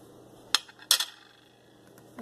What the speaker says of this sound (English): Be sure to stir well to incorporate all the great ingredients.